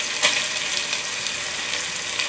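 Onion and lemongrass frying in a pot for a vegetable and chicken rice soup give a steady soft sizzle, with a quick stir clattering near the start and faint bubbling throughout.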